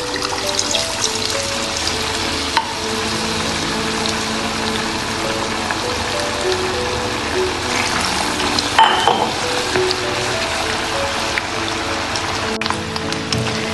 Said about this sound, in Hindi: अब हम उसको फ्राई करेंगे और इसमें डालेंगे तेल के अंदर